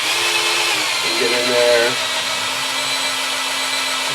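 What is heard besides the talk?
power drill drilling out a stripped bolt in a chair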